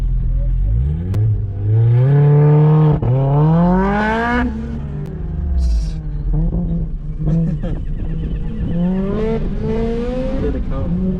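A Mazda MX-5 with a Toyota engine revs hard and loud, pitch climbing and falling through gear changes, with tires squealing briefly amid the roar.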